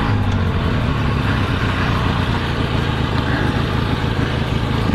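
A motorcycle engine idles in neutral without choke, a steady, loud, close rumble with a slight uneven pulse and no talking.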